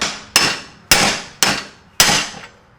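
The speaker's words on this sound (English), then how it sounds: "I tried hammering it because there's a heat shield, hoping the heat shield would like press in enough." Four sharp metal hammer strikes at a stuck bolt on a Nissan 370Z exhaust heat shield, loud and close, spaced about half a second apart with ringing decay.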